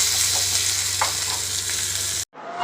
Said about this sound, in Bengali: একটু নুন হলুদ দিয়ে এগুলোকে মুজমুজে করে ভেজে নেবো